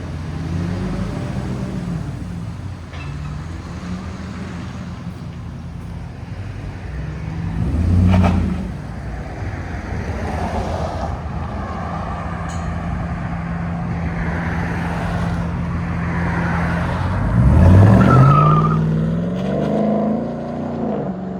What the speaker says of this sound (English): (2021) Ram 1500, true dual straight pipe with an X pipe, and black double wall tips